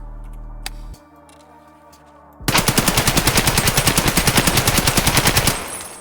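Rapid automatic gunfire in a video game, a gun fired standing with recoil left uncontrolled: a quiet lead-in, then a loud, close, evenly spaced burst of shots lasting about three seconds before cutting off.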